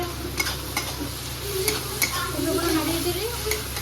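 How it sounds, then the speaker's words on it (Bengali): Spices and bay leaves frying in oil in a pan for a rohu fish curry, a continuous close sizzle with light scraping stir strokes and soft clicks over a steady hiss. "সুন্দরভাবে নাড়িয়ে"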